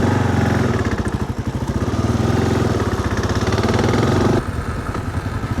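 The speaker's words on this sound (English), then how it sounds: "I can hear the handles rattle just a bit." A motorcycle engine with saddlebags fitted idles up close with a fast, even thumping pulse, a light metallic clatter of rattling handles riding on top, and no voices.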